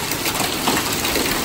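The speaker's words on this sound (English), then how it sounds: "That's hail" Hail drums on the roof of a Chevrolet Tahoe during an Oklahoma spring storm, a steady dense patter heard from inside the vehicle, with no voices.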